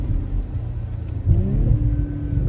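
An Audi B9 fitted with an ECS Tuning X-pipe exhaust accelerates hard from a stop: a steady deep idle rumble swells into a loud rising engine roar about halfway through.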